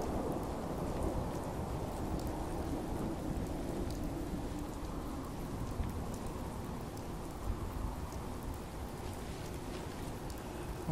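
A rainstorm in the video game Fallout 4: steady hissing rain pours for the whole stretch while low thunder rumbles beneath it at a constant, fairly soft level, with no talking.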